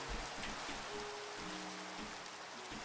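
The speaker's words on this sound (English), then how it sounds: "This rain's getting pretty serious" Steady rain pours in the Minecraft video game, a dense, even hiss that fills the clip without a break, with a faint low tone and no talk over it.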